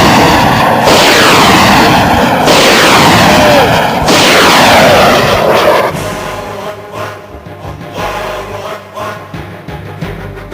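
Loud artillery fire in Iraq, with three heavy booming blasts in close succession, each one rolling out into a long decaying rumble, followed by a quieter stretch of distant crackling reports.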